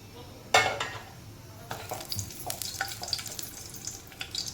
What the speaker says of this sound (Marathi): बारीक गॅसच ठेवायचं वांगी फ्राय होत आहे